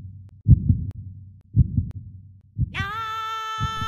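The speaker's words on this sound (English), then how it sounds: "feel drawn to the heartbeat" A deep heartbeat sound effect thumps in slow double beats, loud and close, with a sustained synth tone rising in partway through.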